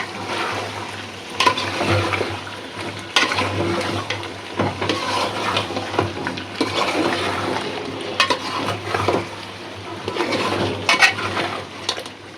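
Beef curry with potatoes being stirred and sautéed in a pan, a steady close sizzle broken by repeated scraping and clattering strokes of a spoon against the pan, with no talking.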